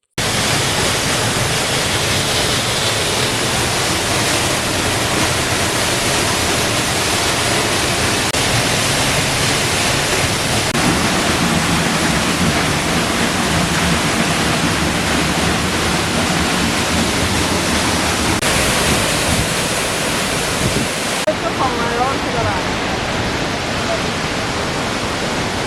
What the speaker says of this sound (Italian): Questa che vediamo è quella inferiore, che salta per 52 metri